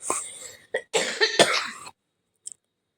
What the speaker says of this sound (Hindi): कभी कभी अभी भी खांसी आ जाती है दोस्तों